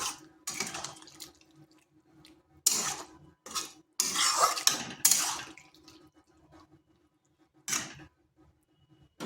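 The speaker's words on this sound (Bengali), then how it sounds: "এরপর এখানে দিচ্ছি জল জল খুব বেশি একটা দেবনি" Water splashes into a pan of fried potatoes and ridge gourd in several short bursts, separated by quiet gaps with a faint background hum and light clinks of cookware.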